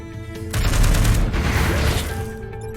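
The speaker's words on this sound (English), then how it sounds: "Do our missile launch." A missile launch in the turn-based strategy game Into The Breach comes as a sudden roaring burst that rumbles for over a second and then dies into the game's musical backdrop.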